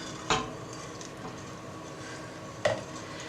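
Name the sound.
stirring cream into cheese-leek soup in a pot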